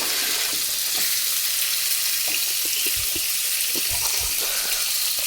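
Food fries in fish oil with a steady, hissing sizzle throughout, punctuated by soft knocks and stirring clatter from the pan.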